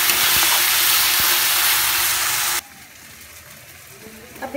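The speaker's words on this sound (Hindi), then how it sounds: "अब मैंने जो मसाला पिसा है उसे इसमें डाल दूंगी और इसे भी साथ में भून दूंगी" Ground masala and golden brown onions fry in a pan for mushroom masala, a loud, steady, close sizzling hiss that cuts off abruptly partway through, leaving a quiet room.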